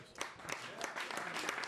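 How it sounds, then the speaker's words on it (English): An audience applauds at a live country concert, a faint, steady patter of many hands clapping at a distance, with a voice mixed in. "Round of applause."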